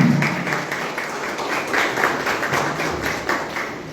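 Audience applause at an outdoor flag-off ceremony for a awareness ride, a steady wash of many hands clapping together for about four seconds, fairly loud and continuous without any speech.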